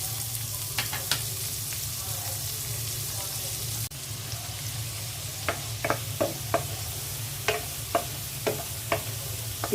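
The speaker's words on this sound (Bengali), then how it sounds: "মাছ ভাজা তেলের মধ্যে পেঁয়াজ দিয়ে দিচ্ছি" Onions sizzle steadily in oil left from frying fish, close and continuous, with sharp spatters and stirring clicks growing more frequent toward the end.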